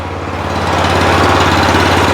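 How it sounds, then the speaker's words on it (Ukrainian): Weima walk-behind tractor engine running steadily at idle close by, a loud, continuous rattling chug with an even rhythm and no voices. "Досить добре шипоче двигун."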